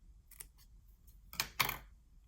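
Faint crisp snips of scissors cutting paper for a handmade journal card, a few light clicks followed by two louder, closer cuts near the end, set against a quiet room.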